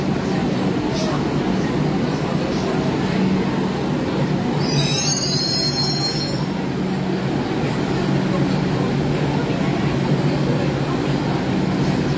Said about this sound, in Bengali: উল্টো দিকের এই ট্রেনটা যেটা এলো